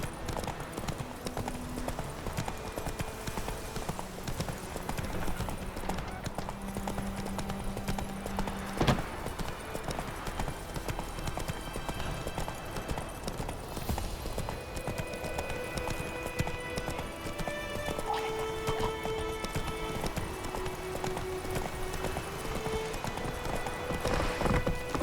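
Hooves of the horse Roach clip-clop steadily through a long stretch of The Witcher 3, with an occasional whinny and faint speech over game ambience.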